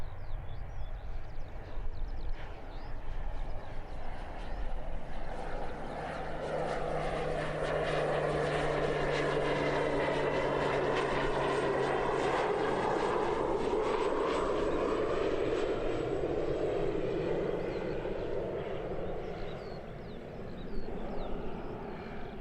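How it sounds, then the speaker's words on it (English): A Sounds Air Pilatus PC-12 turboprop landing at Christchurch Airport: a loud, sustained propeller and engine roar that builds, holds steady as the aircraft passes close, and then eases slightly toward the end. "Here we go though, Sounds Air PC12, nice and loud."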